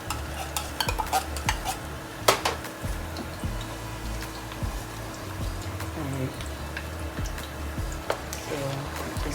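A spoon repeatedly stirs canned tomatoes in a pot for Nigerian stew, making rhythmic scraping and clinking strokes over a soft sizzle, close and moderately loud.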